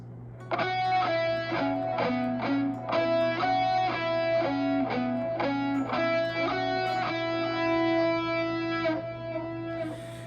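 A distorted electric guitar plays a riff of choppy, chugging notes in repeating rhythmic phrases, loud and close, with a steady amp hum underneath.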